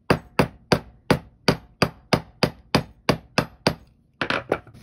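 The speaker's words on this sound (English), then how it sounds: "I'm gonna pound it flat" A metal washer ring is hammered flat for handmade jewelry: about eleven sharp, evenly spaced hammer strikes ring out close and loud, followed by a brief pause and a few quicker taps.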